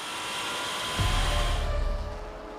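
An endurance race car passes with a loud, whining whoosh. A sharp low-end surge near the middle fades out, leaving a thinner, steady hum.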